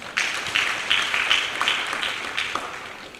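An audience applauds at a correctional service ceremony decorating newly promoted officers, a moderate wash of clapping with distinct individual claps popping out, steady then tapering slightly.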